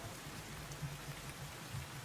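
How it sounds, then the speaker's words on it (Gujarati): Rain falls steadily in Mehsana as a faint, even hiss with soft scattered patters, heard at a distance without voices. "વાવણી જે થઈ શકે એ પ્રકારનો વરસાદ હાલમાં વરસી રહ્યો છે"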